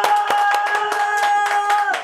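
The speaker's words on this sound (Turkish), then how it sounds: "Kocaman alkışlarla herkesi buraya alıyoruz." Audience applause at a Turkish rap show season finale, a steady clatter of many clapping hands with loud sharp claps up close and a tonal hum running underneath throughout.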